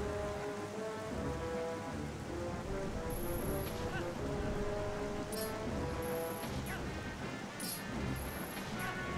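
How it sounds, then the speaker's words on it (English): Heavy rain pours steadily through a thunderstorm in Zelda: Twilight Princess, a dense continuous hiss with rumbling thunder underneath, under game music and occasional high chimes. "Thunderstorm, just kind of whipping across these things."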